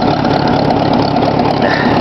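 A 1954 Ford NAA tractor engine runs loud and close, a rough, steady, knocking idle with a gravelly low rumble throughout and no voices.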